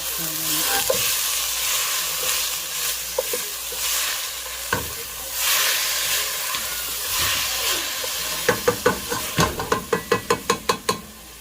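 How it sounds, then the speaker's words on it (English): Ingredients sauté over a medium-high flame for a spaghetti and fried chicken tenders dinner, with a loud, constant sizzle and intermittent stirring scrapes, ending in a quick run of about a dozen sharp, rhythmic spatula taps against the pan. "So let's saute that around."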